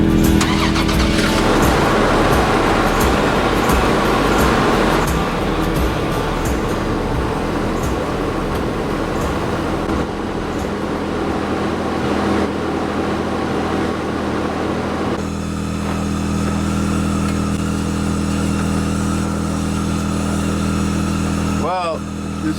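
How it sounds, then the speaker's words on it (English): A truck engine starts and runs loudly at a snowy camp on the Alaska Highway, a continuous heavy rumble throughout with people talking over it and a brief sharp sweep near the end. "Time to start up the truck."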